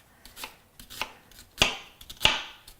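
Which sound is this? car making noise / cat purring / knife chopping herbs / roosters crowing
knife chopping herbs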